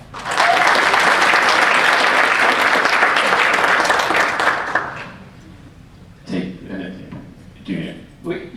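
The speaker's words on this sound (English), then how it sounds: "Walt, clap for Walt." Loud, sustained applause from an audience at a Cedar Point PointBuzz Q&A event for about five seconds, fading out, followed by a few scattered voices talking.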